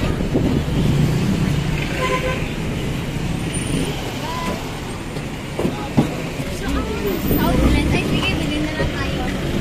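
Traffic noise along a city street in Cotabato City, heard from aboard a moving jeepney: a steady, loud engine and road rumble with passing vehicles and occasional clanks, and people talking over it.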